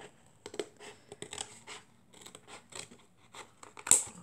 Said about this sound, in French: il n'y a plus qu'à découper